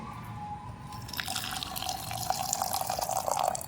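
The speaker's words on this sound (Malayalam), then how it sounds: "ഇനി നെക്സ്റ്റ് ഇതിലോട്ട് വീണ്ടും ചൂടുവെള്ളം ഒഴിക്കുക" Hot water is poured over tea leaves in a Tashkent tea setting, a steady liquid stream that starts faint and grows fuller and louder after about a second, with light splashing and dripping throughout.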